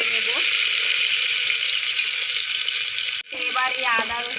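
Chopped onion hits hot oil with whole garam masala for ghugni, giving a loud, steady sizzle; it briefly drops and then swells back as the onion goes in, while someone talks over it.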